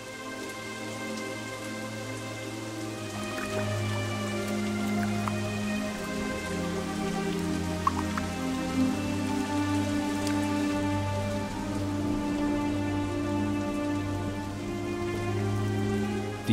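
Steady rain falls on a rainforest with no talk, an even, dense patter with a low rumbling layer that holds for the whole stretch.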